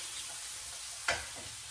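Bacon crisps in a frying pan with a soft, even sizzle throughout and one brief louder crackle partway through, with no talking.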